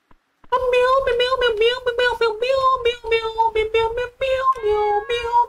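Cats in Dave the Diver meow repeatedly for cat food, a close, loud run of high, insistent mews in quick succession with brief pauses.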